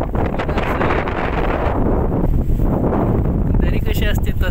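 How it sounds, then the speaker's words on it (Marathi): Strong wind roars and buffets the microphone during a descent of Chavand fort above a steep valley in Malshej Ghat. The rumble is loud and continuous throughout, with no clear voices. "वारा बघा केवढा आहे, वाट लागली."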